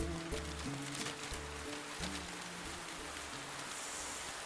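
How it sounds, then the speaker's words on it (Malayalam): Heavy rain pours steadily, a dense continuous hiss close by, with a low rhythmic background of music underneath and no speech. "എന്തൊരു മഴ,"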